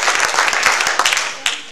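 A church congregation applauds during a Spanish-language sermon, a dense burst of clapping from many hands that runs for under two seconds with a few sharper claps standing out near the end.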